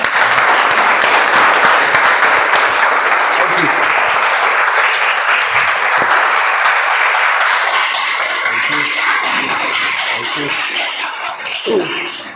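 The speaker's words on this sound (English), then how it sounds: "With a huge round of applause, please help me welcome to Toastmaster of the Day, DTM Mazahir." Applause from members at a Toastmasters meeting welcoming the Toastmaster of the Day, loud sustained clapping that gradually thins and fades toward the end, with a cough or two near the close.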